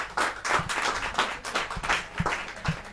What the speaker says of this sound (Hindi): क्या तालियां बजे तो ढंग से बजे ना